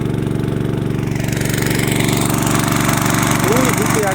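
A petrol water pump engine runs steadily close by while irrigating a field, giving a loud, even chugging drone with a rapid pulse. A voice speaks over it.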